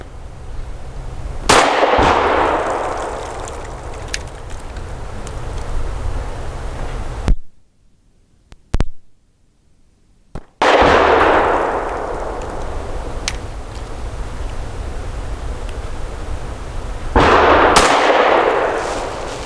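Mossberg MC2sc pistol shots fired at a target from seven yards on a range, sharp loud cracks spaced apart with ringing echo between them, followed by a brief quiet gap, then more single shots.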